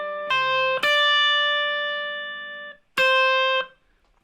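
Clean electric guitar notes picked on the first string in a short chromatic run, then a note bent up a whole step that sustains and decays, followed by one more struck note; close, clear, no talking.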